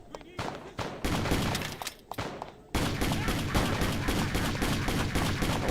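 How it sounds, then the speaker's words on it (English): Grenades and gunfire erupt in a video game, a loud, dense barrage of blasts and shots with a brief lull before an even heavier, sustained burst of explosions. "Grenades being thrown at me."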